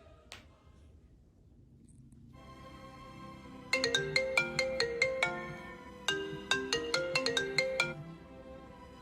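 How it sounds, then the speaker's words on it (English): A cartoon telephone rings in two bursts of rapid electronic trills, loud and clear against a quiet background with no talking. "Get La Baguette on the phone."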